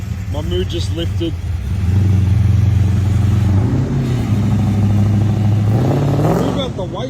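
An ex-highway patrol Holden Commodore VK revs loud and close, its engine note climbing, holding and dropping in sustained pulls. Voices are heard at the start and the end.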